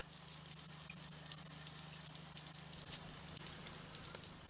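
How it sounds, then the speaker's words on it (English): Cold mains water spraying steadily from a Mira Advance ATL thermostatic shower head, a constant hissing patter with a low hum underneath. "then the cold mains water will come through the shower head."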